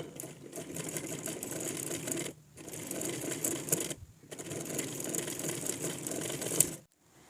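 A domestic sewing machine stitching a long straight seam on fabric piping cord, loud and steady with a continuous motor whir, stopping briefly twice and ending in a short pause.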